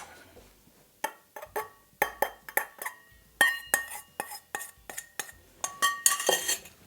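Stainless steel mixing bowls clink and clatter while brownies are being mixed, a close, irregular run of sharp metallic knocks and rings that grows busier toward the end.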